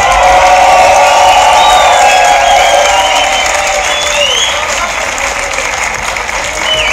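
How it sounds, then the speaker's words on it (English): Crowd at a beatbox tag-team battle applauds and cheers with whoops, a loud sustained wash that slowly thins, with a voice talking over it. "Big round of applause. Make some noise for BERY as well."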